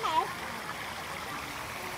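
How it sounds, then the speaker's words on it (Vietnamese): An artificial stream runs through a zoo in Quy Nhon, giving off a steady, soft broadband rush of flowing water from start to finish, with brief faint talk near the beginning. "suối này à, suối nhân tạo rất là đẹp ha."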